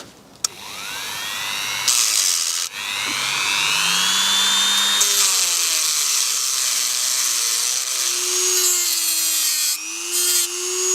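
A Dremel rotary tool cuts through a moulded plastic clamp during a BMW cabin-smoke repair, its high-pitched whine rising and falling steadily for several seconds with brief pauses, close and loud, with no talking.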